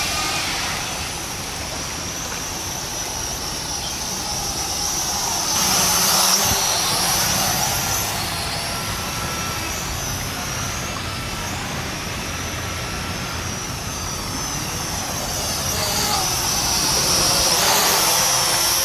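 An SG900 drone in flight gives a steady, loud whirring buzz that holds for the whole stretch and swells slightly as it passes nearer, with no talk over it.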